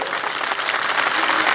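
A crowd at a political rally on a middle-school sports ground in Rajpur, Buxar district, claps loudly, dense steady applause with no pauses throughout.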